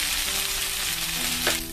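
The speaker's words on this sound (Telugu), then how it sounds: "ఈ కట్ చేసి పెట్టుకున్న మిర్చిలన్నీ యాడ్ చేయండి। యాడ్ చేసి బాగా మిక్స్ చేసుకొని లిడ్ తో కవర్ చేసి మగ్గనివ్వండి।" Cut green chillies for bajji mirchi chutney fry in a pan with a steady, close sizzle, and a brief scrape of stirring comes near the end.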